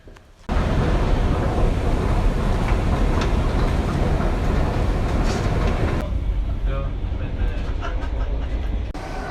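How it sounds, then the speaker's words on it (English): A subway train rumbles loudly and steadily during a ride, with rattling carriage noise that drops in level partway through. Voices are faintly present under the din. "I mean the subway trip."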